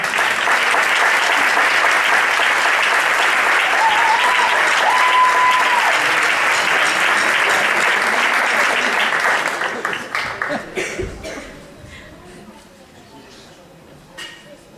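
Audience clapping after a student saxophone recital at a music school, a loud sustained round of applause that thins into scattered claps and fades away near the end.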